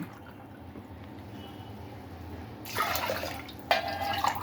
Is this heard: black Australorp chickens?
no